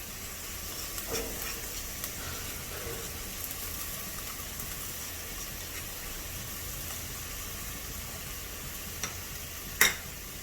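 Fried squid with chili and basil is stirred in a pan, a soft steady sizzle with faint scraping and a sharp clink near the end, quiet and close.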